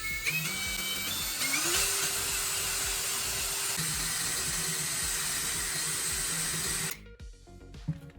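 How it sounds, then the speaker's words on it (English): Drill boring one hole through the center of a steel L bracket: a steady loud whine that climbs in pitch over the first seconds, holds for several seconds, then cuts off abruptly, leaving faint rattling. "You drill one clean hole in the center."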